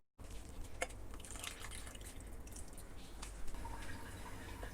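Water poured into a cooking pan for a chicken and mushroom curry in cashew nut sauce, a steady close splashing and trickling with occasional drips, no talking.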